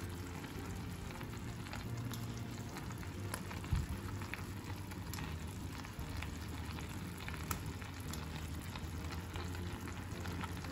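Fish meatballs made from whiting drop into hot oil in a pan for a fish kefta tagine, giving a steady close sizzle and crackle with a small soft plop near the middle.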